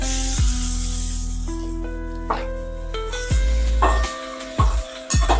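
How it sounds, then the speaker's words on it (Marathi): Chopped tomatoes hit a hot pan of sautéed onion and garlic while making a spiced bitter gourd (karela) dish, giving a loud, steady sizzling hiss that softens and flares in bursts, with no one talking. "त्याच्यामध्ये आता आपण टोमॅटो टाकून घेऊ"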